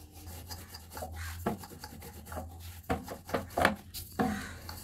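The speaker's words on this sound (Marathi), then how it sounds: "आणि आता असे पारी लाटून घ्यायची आहे आपल्याला." Rolling pin pressing dough into thin rounds for karanji, a soft continuous rubbing and scraping with irregular louder bumps as the pin rolls back and forth, close and moderately quiet over a low hum.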